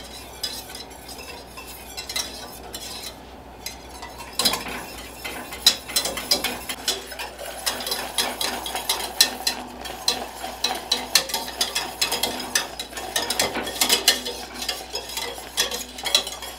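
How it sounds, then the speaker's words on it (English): An old-fashioned oatmeal cake topping stirred in a pot as it boils and thickens, a close run of rapid scraping and clicking spoon strokes against the pan over a low bubbling, steady and without talk. "we're going to keep on stirring, and it's going to begin to boil, and then it'll start to thicken up"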